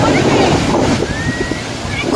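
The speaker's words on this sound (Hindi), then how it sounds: "हमारी बोट आ रही है" Boat approaching on open water off Juhu beach, heard amid rushing wind buffeting the microphone and the wash of waves and surf, a steady noisy roar throughout.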